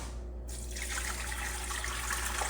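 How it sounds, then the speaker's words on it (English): Hot tap water gushes steadily from a faucet, a close, continuous rushing stream that starts abruptly and runs alone without talk, for filling a weighted-gauge pressure canner. "I'm using tap water as hot as I could get it."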